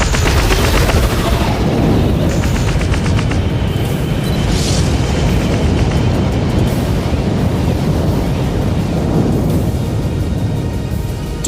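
Spaceship weapons fire on enemy ships in an audio drama battle: a dense, continuous roar of booming blasts and rapid gunfire-like bursts, loud and sustained throughout with no voices.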